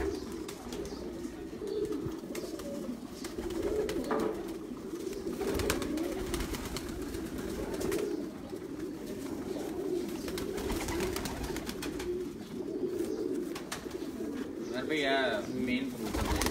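Pigeons cooing on a rooftop loft, soft low rolling coos repeating throughout at moderate distance, with someone talking over them and faint outdoor noise.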